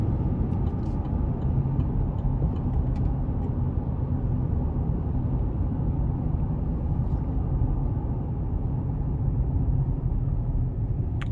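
A 2021 GMC Canyon Elevation pickup with a 3.6 engine and two-wheel drive is driven, its cabin filled with a steady low road and engine rumble, constant and unbroken, with no talking.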